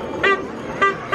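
A vehicle horn on a street beside a roadside shop gives two short toots and begins a third, each a brief bright honk close by.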